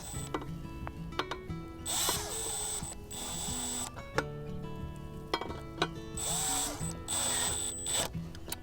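Power drill driving short screws into a mailbox, with several bursts of high whirring and pauses between them, close and loud, plus some handling clatter.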